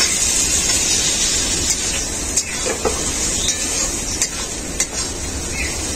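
Fried potatoes are stirred into a sizzling spice paste made with ground cashews, producing a constant close frying hiss with occasional scrapes and clinks of a utensil against the pan.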